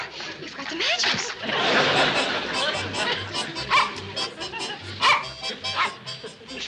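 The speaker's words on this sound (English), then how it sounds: "Instead of standing there barking, do something." A dog barks and yips in short bursts in a domestic scene from the sitcom Petticoat Junction, with people talking and commotion around it.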